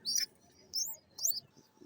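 Pigeons at an outdoor pigeon sale give three short chirping calls, faint and spaced apart over low background murmur.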